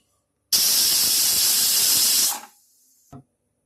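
A pressure cooker on low flame in a home kitchen gives one loud, steady whistle of escaping steam lasting about two seconds, then it tapers off, followed by a short faint knock.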